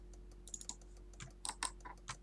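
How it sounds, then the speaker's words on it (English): Typing on a computer keyboard, quiet and sparse, with small clusters of clicky keystrokes in an otherwise still room. "I'm sorry if the typing is a little bit loud"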